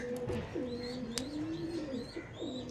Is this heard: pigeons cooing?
yes